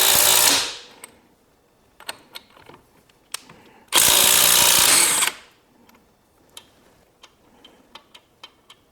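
A compact Dewalt Atomic 20V Max cordless half-inch impact wrench hammers off sockets in two loud bursts of about a second each, with sharp mechanical clicks and ratcheting ticks scattered in the quieter gaps between them.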